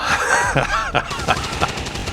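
Rapid XCOM 2 operative gunfire in a dense, continuous burst of shots and impacts, loud and close, with game effects layered throughout.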